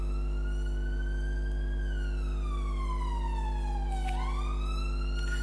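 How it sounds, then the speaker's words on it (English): An emergency vehicle siren wails in central London, rising and falling in a slow sweep over a steady low hum, fairly loud and clear, with no talking during it. "excuse the siren"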